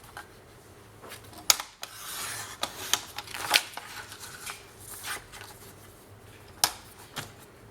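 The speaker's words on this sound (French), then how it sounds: "Je vais couper tout ça." Scissors snip through paper for a Mintay "Wanderlust" scrapbook album page, a quiet series of short crisp cuts and rustles spread irregularly across the stretch, close by and alone.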